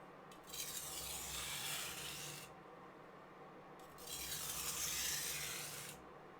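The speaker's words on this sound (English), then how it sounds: "you can hear the sound the stones make on each grit" Two long, steady passes of a dulled kitchen knife blade rasping across a Parkside sharpening stone, a bright gritty scrape with a brief quiet gap between strokes, close and alone.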